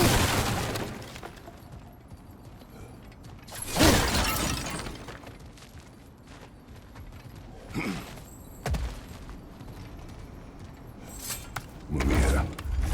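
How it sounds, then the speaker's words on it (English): Objects smashed in God of War Ragnarok: several loud, crashing breaks of wood and debris at irregular intervals, each a sharp burst fading quickly, separated by quieter ambient game background. "back to smashing through things for fun and profit"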